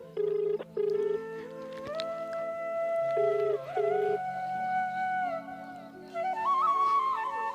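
An outgoing phone call rings back in two short bursts of a steady tone, heard over continuous background music in a comic Awadhi family scene.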